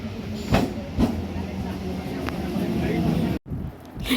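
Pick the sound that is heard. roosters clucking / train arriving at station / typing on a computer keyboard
train arriving at station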